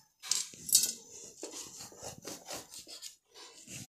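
A knife cuts through warm sesame and jaggery tilachi vadi bars, giving quiet, close scraping and rasping strokes with some light metallic clinks, repeated in short passes.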